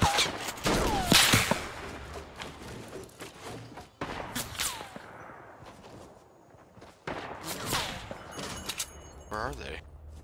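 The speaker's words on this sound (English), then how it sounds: "I think there's two groups sniping at us" Sniper and rifle fire in the video game Fortnite, several sharp cracks at irregular intervals, some loud and close, others fainter, over game footsteps and background noise, with players talking at times.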